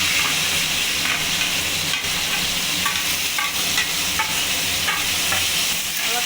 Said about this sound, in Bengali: এবার আমি পেঁয়াজ কুচিগুলো দিয়ে দেব।